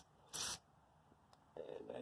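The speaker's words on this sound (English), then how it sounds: "I spray a little carb cleaner in there." Carb cleaner is sprayed into the clogged carburetor of an MTD Murray 824ES snow blower, a short close hiss lasting a quarter second, followed by quieter handling noise.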